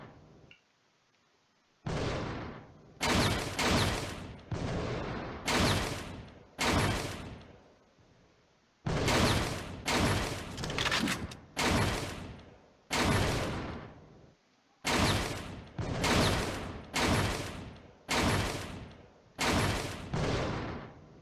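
Gunfire in the video game Indigo Prophecy while shooting terrorists: repeated loud bursts of shots, each about a second long, in an irregular rapid series with brief gaps, close and dominant.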